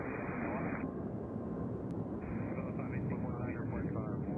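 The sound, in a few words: airplane landing at Nashville International Airport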